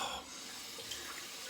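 Cold water runs steadily from a bathroom tap into a sink for a rinse during a wet shave, a continuous hiss lasting the whole short stretch.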